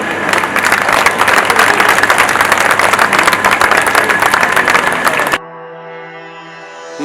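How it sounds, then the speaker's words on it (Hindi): A crowd bursts into steady, loud applause lasting several seconds, then it cuts off abruptly, leaving a quieter tonal hum. "तालियों के साथ उनका स्वागत करें।"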